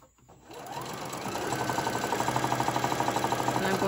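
A sewing machine stitches a fabric pet bandana, starting up after a brief pause and then running steadily with a fast, even mechanical rhythm, close and fairly loud.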